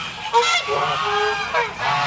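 Heavy African geese honk nearby, several loud nasal calls overlapping in a short noisy burst.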